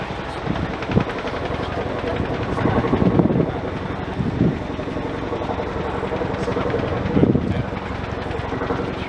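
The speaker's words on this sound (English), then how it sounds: "the crewmen will be fine-tuning the positioning of the Chinook" A Chinook helicopter hovers at an air show, its rotor thud and turbine whine steady and loud with wind buffeting the microphone, and a commentator's voice comes over the public address.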